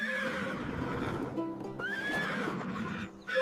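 A cartoon horse neighs in a short, shrill whinny that rises and wavers, close and clear over a faint background bed.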